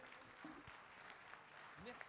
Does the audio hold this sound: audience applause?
yes